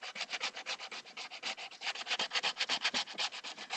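Sanding a painted helmet by hand, quick rhythmic back-and-forth scratchy strokes, about eight per second, close and clear with no talking.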